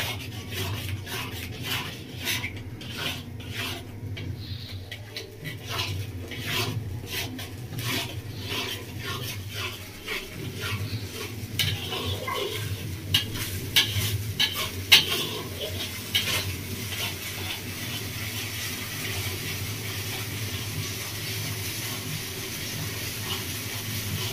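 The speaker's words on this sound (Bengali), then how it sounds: "দেখুন বন্ধুরা মশলা থেকে তেল ছেড়ে দিয়েছি, আস্তে আস্তে দেখুন মশলাটা খুব ভালোভাবে কষানো হয়ে গেছে।" Masala frying in oil over a raised gas flame, stirred and scraped steadily with a ladle in a pan, makes a continuous close rasping and sizzling with repeated scraping strokes and no talk.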